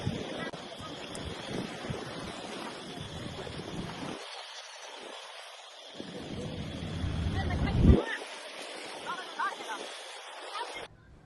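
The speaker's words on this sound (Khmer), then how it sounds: "អង្គុយមើលទឹកសមុទ្រលោបបោប" Sea waves washing in at a seaside on a cool, breezy dry-season day, a steady surf wash with wind rumbling over the microphone and a swell of louder water near the middle.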